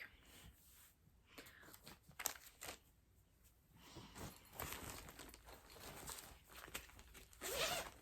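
Zipper on a stitching or cross-stitch project bag pulled open in a few quick rasping bursts, close and fairly loud, with a sharper final pull near the end and no talking.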